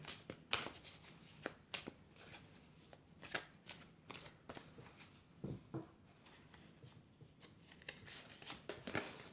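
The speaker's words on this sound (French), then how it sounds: "on va prendre une carte du tarot des fées pour avoir le message pour aujourd'hui" Fairy tarot cards are shuffled by hand close to the mic, with a steady run of soft riffling and tapping bursts, quiet and without talk.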